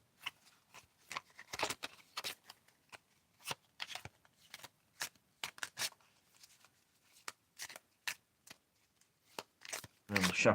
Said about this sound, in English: I'm going to do some shuffling.